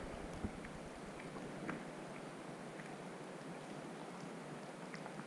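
Steady rain falls on a river during winter steelhead fishing, making a soft, even hiss with a few faint drips and no voices.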